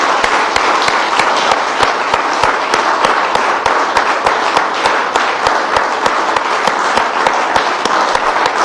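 A church congregation claps in unison, loud and close, keeping a steady rhythmic beat that fills the whole stretch.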